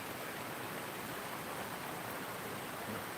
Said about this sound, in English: I'll show you where that waterfall is that you can hear